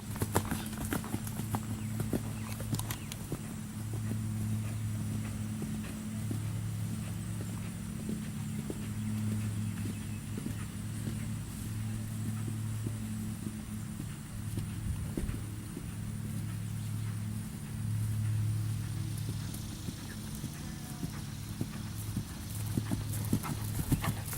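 Steady clip-clop of horse hooves striking hard ground at a walking rhythm, close and continuous, with low rumbling background noise.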